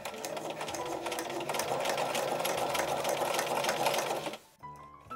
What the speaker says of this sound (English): carried on sewing along the neck, catching the facing and the tacked on collar at the same time